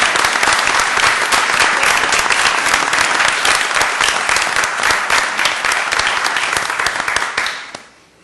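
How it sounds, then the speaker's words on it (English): An audience at a university Board of Governors meeting applauds the newly confirmed Florida Atlantic University president, loud dense clapping sustained for several seconds before tapering off quickly at the end. "You want to clap again?"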